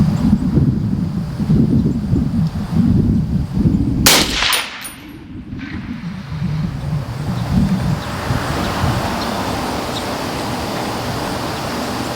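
PSA Sabre .308 M110 rifle fired at an outdoor range at 100 yards, one sharp loud report cutting through heavy wind noise, with a faint ringing echo trailing after it.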